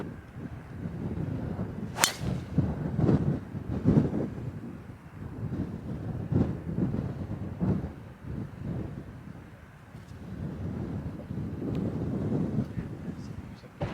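Strong wind gusts roar and buffet the microphone on the Royal Portrush links golf course, a steady low rumble that swells and fades throughout, with one sharp whooshing crack near the start and faint voices in the background.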